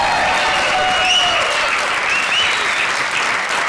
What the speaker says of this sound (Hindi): तालियों से स्वागत कीजिए